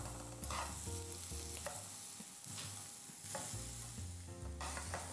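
Chiles toast in a pan with onion and garlic, sizzling steadily with repeated stirring scrapes, faint and close with no talking over soft background music.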